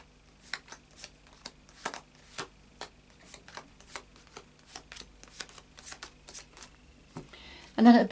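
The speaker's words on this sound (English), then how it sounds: "we'll just do a final shuffle of the" Light Seers Tarot cards are shuffled by hand in a run of quick, close riffling bursts at an uneven rhythm, quiet and crisp against a silent background.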